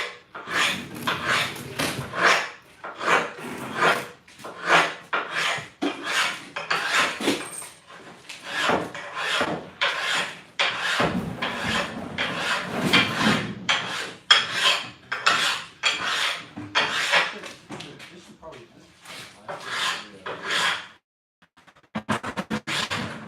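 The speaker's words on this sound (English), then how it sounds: "now I'm going to bevel the bottom too, because when you grab the cutting board" An edge of a stone cutting board is beveled by hand with repeated rasping, grinding strokes in an irregular rhythm, close and fairly loud, with short gaps between passes.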